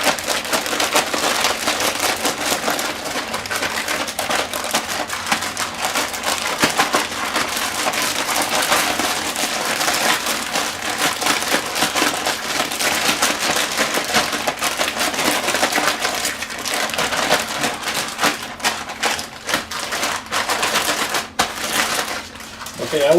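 Raw beef sloshed and squished with soy sauce and sriracha inside a sealed zip-top bag, a steady close, crinkly wet kneading noise that runs continuously with no talking.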